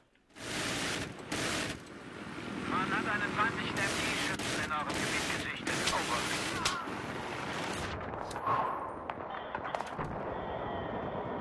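Bursts of gunfire in Battlefield 3 crack out in repeated volleys, loud and close, with rumbling blasts between them and a voice talking over the fighting.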